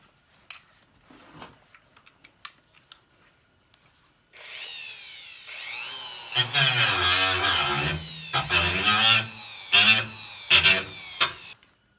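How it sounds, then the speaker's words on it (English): A fiber wheel grinds along a welded sheet-metal patch edge on a 1990 Nissan 240SX to knock off burrs, starting after a quiet stretch with sharp taps, then a loud sustained whir rising and dipping in several close bursts. "now we're just going to run down the edge with the fiber wheel there to take any burrs off."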